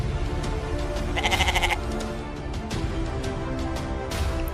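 A goat gives a clear, close bleat in a wavering, quavering call lasting under a second, set against a steady background murmur with some faint rustling around it.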